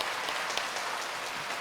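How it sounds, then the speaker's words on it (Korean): Warm applause from a church congregation during a Sunday service, an even, continuous patter of many hands filling the short moment without any voices over it. "우리 따뜻한 박수로 환영하겠습니다."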